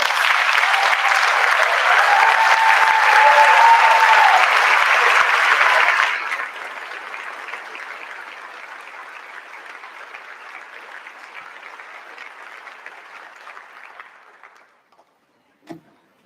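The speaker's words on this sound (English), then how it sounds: "Let's give Melody a round of applause." Staff at a school's end-of-year celebration applaud a retiring colleague, with loud dense clapping for about six seconds that then thins and trails off gradually, ending in a few scattered claps.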